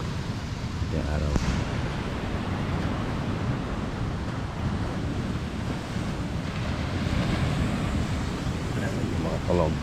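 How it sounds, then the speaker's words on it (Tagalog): Ocean waves wash onto a La Union beach in a steady, fairly faint rush mixed with wind buffeting the microphone, with a few brief voices in the background. "Ito yung dagat."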